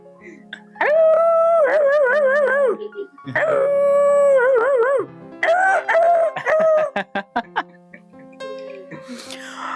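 A voice imitates a dog, producing long drawn-out howls followed by a run of short, sharp barks, loud and close.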